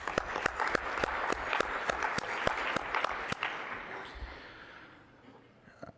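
A conference audience claps together in a burst of applause that starts dense with sharp individual claps. It slowly thins out and fades over several seconds with no talk over it.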